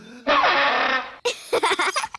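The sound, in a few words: spal throttle, a silly elf band instrument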